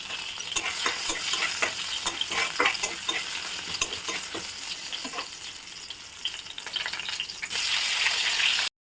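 Tomato fries in a pan with cumin, green chilli and ginger for sago upma, a crackling sizzle punctuated by rapid scraping stir strokes, then a louder, steadier hiss near the end.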